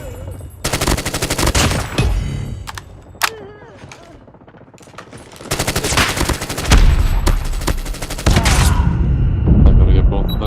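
Rapid bursts of automatic rifle fire and sniper shots in Call of Duty Mobile ranked multiplayer, loud and near, coming in dense clusters separated by short pauses, with a voice talking over parts of it.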